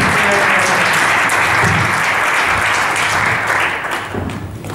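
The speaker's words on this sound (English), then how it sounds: "a big round of applause for those initial comments" Loud, sustained audience applause fills the room at a business technology lunch talk, dense clapping holding steady before thinning slightly toward the end.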